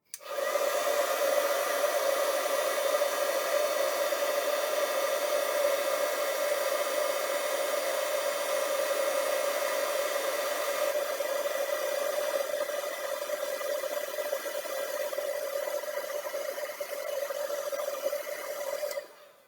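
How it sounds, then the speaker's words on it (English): A loud, steady embossing heat tool whirring nonstop at close range, blowing hot air continuously with a constant droning hiss. "I'm going to get a little loud here as we heat this up with our heat tool."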